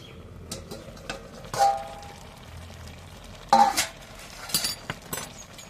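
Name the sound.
pot lid being removed after boiling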